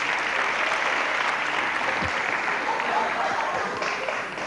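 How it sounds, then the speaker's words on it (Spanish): Studio audience of a 1990s Spanish TV comedy show breaking into sustained applause, a dense even roar of many clapping hands that holds steady throughout. "ella es Margaret Thatcher, ese fuerte aplauso."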